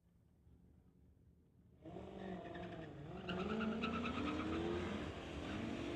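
Street-legal cars drag racing down the strip at a MOPAC event, engines roaring up from quiet as they launch, rising in pitch through a shift, moderately distant and sustained with no talk.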